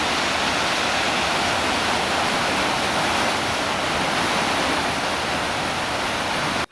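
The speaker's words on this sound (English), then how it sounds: "something calming about the way the waves hit the cliffs in this park" Ocean waves crash steadily against coastal cliffs in a Japanese park, a dense, continuous roar of surf close by with no distinct breaks, cutting off abruptly at the end.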